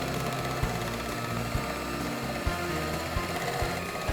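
Electric hand mixer beaters whirring steadily through a flour mixture for a Christmas baking recipe, a continuous motor drone with periodic knocks of the beaters against the bowl, close and fairly loud, with no talking.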